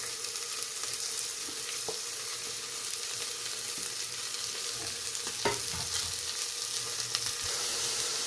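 Dill leaves frying in a pan for a dill rice dish give a steady, soft sizzle with occasional scraping stirs, close and continuous, no talking.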